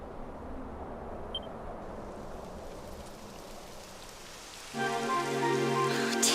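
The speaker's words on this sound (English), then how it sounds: "It would have to go and start raining, wouldn't it?" Rain falls in the video game Dragon Quest XI as a soft steady hiss, then a tonal game sound swells in near the end, with no voices.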